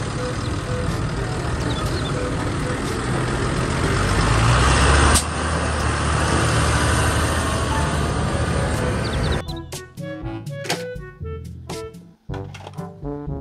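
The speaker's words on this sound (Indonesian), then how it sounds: "Mobil traktor." A toy tractor gives off a loud, steady engine-like rumble for several seconds, then breaks into choppy, stuttering bursts with short gaps between them.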